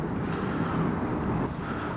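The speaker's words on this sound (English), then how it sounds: "Wind's starting to pick up just a little bit tonight." Continuous low wind noise buffeting the microphone outdoors on a below-freezing night, a steady rumbling hiss with slight swells and no clear talking.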